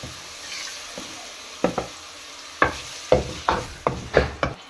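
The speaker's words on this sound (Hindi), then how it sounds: "प्याजों को हल्का ब्राउन करेंगे।" Onions going into hot oil in a pan and being stirred, with quiet background sizzle punctuated by a series of sharp scraping and clattering stirring strokes that grow more frequent toward the end.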